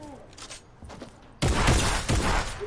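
Gunfire in a PS4 game, a sudden loud burst of rapid close shots cutting in after quieter distant pops and game noise.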